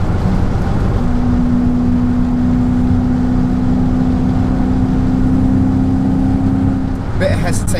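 A supercharged Mercedes-Benz E55 AMG W210 with a Kleemann 55-K2 supercharger and a misfire, accelerating in fourth gear and hesitating below 4,000 RPM, makes a loud, close, steady engine drone with a sustained whine.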